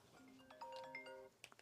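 A cell phone ringtone plays a short melodic run of clear sustained tones at moderate volume, ending with a few sharper blips.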